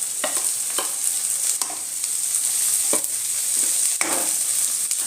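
A tomato, onion and ginger paste fries in a pan for a Bengali katla fish curry with coconut milk, giving a steady close sizzle broken by several short bursts of stirring scrapes, with no voices.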